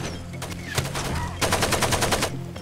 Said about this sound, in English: He's firing through the damn rock